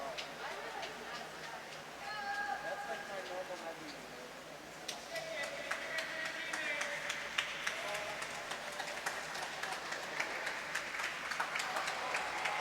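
Teammates clap at a high school swim meet, a spread of scattered hand claps under steady pool-hall noise and background voices, growing denser and livelier in the second half.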